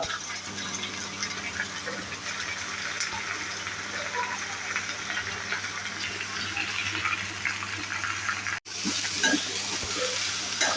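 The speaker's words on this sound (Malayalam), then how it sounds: "നമ്മൾ രണ്ട് സവോള കുറച്ച് കറിവേപ്പില അതിൻ്റെ കൂടെ തന്നെ ഒരു മൂന്നോ നാലോ പച്ചമുളക് സ്ലൈസ് ചെയ്തിട്ടുണ്ട് ഇതൊക്കെ കൂടി ഇട്ടിട്ട് നല്ലപോലെ ഒന്ന് വഴറ്റുക" Sliced onions, curry leaves and green chilies for a mutton potato curry sauté in a pan with a continuous sizzle and occasional stirring scrapes.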